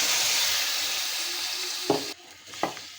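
Tomatoes sizzling in hot oil for tomato chutney with a steady frying hiss, then a couple of utensil knocks as the sizzle drops noticeably quieter.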